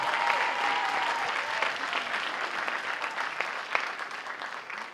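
A school crowd gives steady, sustained applause for a student athlete, a dense wash of clapping heard close and continuous from start to finish, with faint voices underneath.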